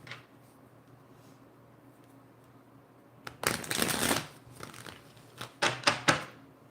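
Tarot cards are shuffled in a riffle that rustles for about a second, followed by several quick, crisp snaps and flutters of the deck, close by with no talking.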